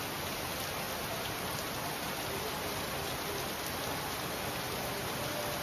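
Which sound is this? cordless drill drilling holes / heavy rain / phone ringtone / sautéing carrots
heavy rain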